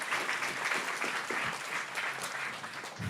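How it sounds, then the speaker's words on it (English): Warm audience applause greeting a speaker at a startup sales meetup, continuous close clapping from a sizable crowd throughout, with no speech. "let's welcome him with warm applause"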